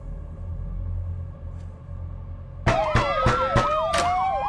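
A police car siren arrives in the horror game The Floor Is Breathing. It starts suddenly after a low rumbling ambience, then wails loudly in rising and falling sweeps with sharp bursts, and no talk can be heard.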